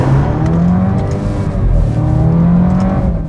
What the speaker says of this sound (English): this is a 4-cylinder turbocharged engine producing 280 horsepower and 300 pound-feet of torque